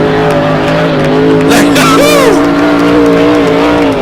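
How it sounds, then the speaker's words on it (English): A loud Vintage 3 class hydroplane racing boat engine roars past on the water with a rising and falling whine during a 2013 race at Pateros. A commentator talks over it the whole time. "these guys are out here doing an outstanding job in our Vintage 3 class hydroplane"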